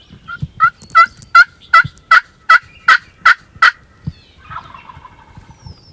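A wild turkey tom in a spring field answers calls with a loud, excited gobble: a rapid series of about ten rattling bursts that build and then stop, followed by fainter trailing notes and outdoor rustle.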